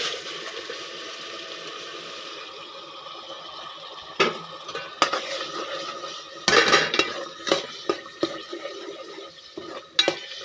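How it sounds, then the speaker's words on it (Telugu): Masala paste fries in hot oil with a pinch of turmeric for a crab curry, a constant low sizzle with sharp clinks of a metal spoon against the pan scattered over the second half. "ఆయిల్లో వేసేసి వేపేసుకోవడం"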